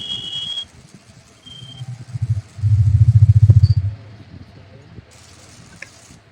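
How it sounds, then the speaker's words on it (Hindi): A repaired mixer grinder motor hums low and steady. It swells into a rapid, pulsing whir for about a second and then drops back to a quieter run, with faint clicks around it. "देखिए हमारा मोटर घूम रहा है।"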